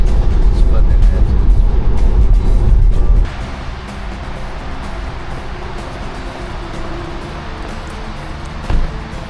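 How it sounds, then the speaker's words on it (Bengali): A car driving fast along a wet, white-covered road in poor visibility throws up hissing spray, loud and dense for the first three seconds before easing into steadier tyre-on-water road noise. "গাড়িটা পুরো এত জল ছেটাচ্ছে"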